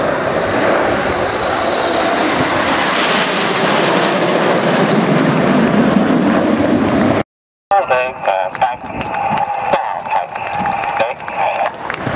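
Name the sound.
Vulcan aircraft flying at air display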